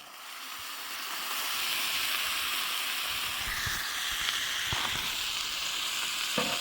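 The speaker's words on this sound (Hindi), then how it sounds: "ये पेस्ट शामिल करने के बाद मैं इसे हल्की आंच के ऊपर 8 से 10 मिनट तक फ्राई करूँगा" Mutton sizzles on a tawa with tomato, green chili and ginger paste over low heat. The frying hiss is steady and close, thickening after the first seconds, with a few soft stirring knocks.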